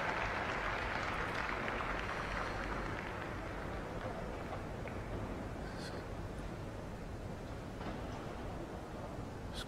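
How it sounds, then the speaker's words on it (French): An arena crowd at an international show jumping event applauds British rider Scott Brash, a distant, steady wash of clapping that stays even and fairly faint throughout. "il mérite un tonnerre d'applaudissements pour la Grande-Bretagne"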